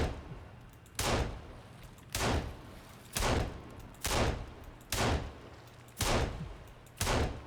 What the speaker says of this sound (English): This is a good reason to use the pistol, actually.